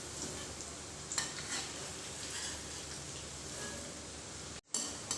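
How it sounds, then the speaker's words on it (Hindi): Wheat flour namkeen snacks frying in a kadhai over a low flame give a continuous soft bubbling sizzle, broken by a brief utensil tap and a short pause near the end. "कढ़ाई में मैंने जो नमकीन को फ्राई होने के लिए चढ़ाया था"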